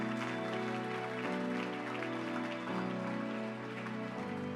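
A church congregation claps in acclaim of God during a sermon, a loud, dense wash of steady applause with a sustained musical drone beneath it, filling the whole stretch without a break.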